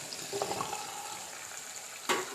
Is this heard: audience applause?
no